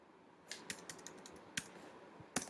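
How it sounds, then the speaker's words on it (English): Computer keyboard typing in short, uneven bursts of crisp key clicks during web development work, fairly close and quiet, with several separate taps and a final sharper keystroke against faint room noise. "if we type home here"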